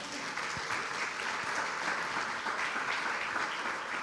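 A church congregation clapping together during a sermon, a steady unbroken wash of applause that holds at an even level throughout.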